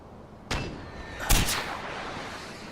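A grenade launcher fires in Far Cry 4, two loud, sharp booms about a second apart, each trailing off into a short rumble.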